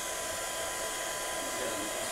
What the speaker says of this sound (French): Je vais chauffer la poudre,